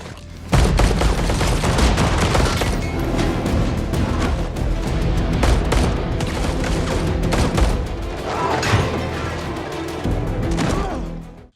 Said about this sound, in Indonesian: Dan aksi tembak-menembak pun tak terhindarkan.